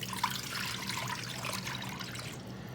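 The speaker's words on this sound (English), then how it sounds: "I'm just gonna pour it right in here, just like that." Water poured steadily into a Power XL pressure cooker while cooking white beans, a continuous close splashing trickle with no talk.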